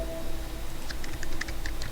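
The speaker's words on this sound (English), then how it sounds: "we'll try to type something" Computer keyboard typing in the vi editor: a quick burst of close, crisp keystrokes over a steady low hum, with no voice.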